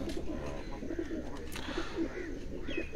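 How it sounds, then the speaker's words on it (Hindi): Pigeons at a farm give repeated low coos in a loose, pulsing rhythm, moderately close, over a steady background hum and occasional higher bird chirps. "एक और कबूतर है वो आपको दिखा रहे हैं।"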